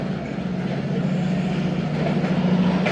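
Karachi Express train hauled by locomotive 6007 arriving at Multan Cantt, a steady close rumble of rolling wagons with a low engine hum throughout.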